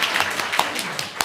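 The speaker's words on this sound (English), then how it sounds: "Thank you, whoever clapped." A few scattered hand claps from someone in the audience at a Dharma family service, light, irregular and fairly close, in a quiet room.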